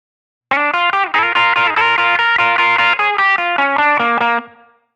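Electric guitar through a Line 6 POD Go, set to an album tone: a loud, driven run of quick double-stop licks with light grit and a touch of chorus, played alone and ringing out to a fade at the end.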